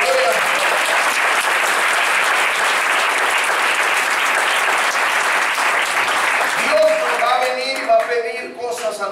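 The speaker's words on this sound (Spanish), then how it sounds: "Denle palmas al Señor, aleluya." A church congregation claps for the Lord during a worship service, loud sustained applause that thins near the end as a voice and music emerge.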